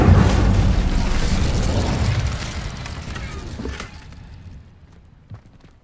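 Incendio fire spell cast in Hogwarts Legacy, a loud burst of roaring flame that hits at once, rumbles for a few seconds and then tails off into a faint crackle, with no voices.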